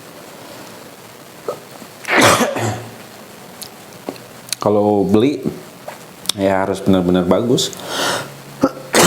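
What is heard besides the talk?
cough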